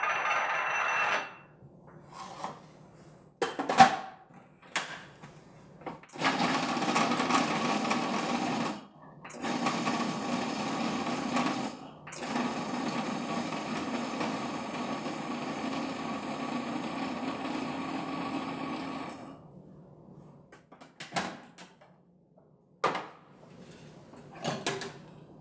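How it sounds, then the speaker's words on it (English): A food processor blends pitted medjool dates and nuts into a raw key lime pie crust. It whirs in several bursts: short pulses first, then a long steady grinding run, then brief stop-start pulses with pauses between them. "So all of that into the food processor."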